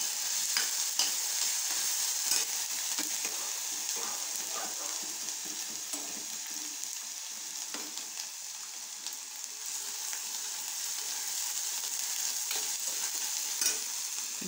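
Ginger garlic paste with crushed cardamom, cloves and cinnamon sautéing in hot oil, giving a steady broadband sizzle with frequent scraping stirs and clicks throughout, close and continuous, with no voices.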